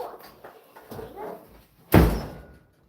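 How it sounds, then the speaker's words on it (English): A door swung shut with one firm, loud thud after a stretch of quieter household movement, followed by near silence. "Let me shut the door."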